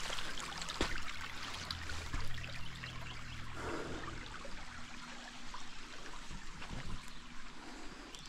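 Creek water flows and trickles along the Tug River on the West Virginia and Kentucky border. The gentle, continuous burble sits at a moderate level with no voices over it.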